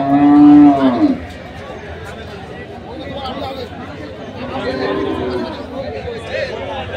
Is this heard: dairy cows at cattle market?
yes